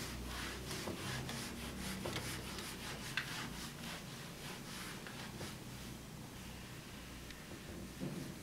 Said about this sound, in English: So I'm going to rub this off, but of course you can rewind and have a look at it later.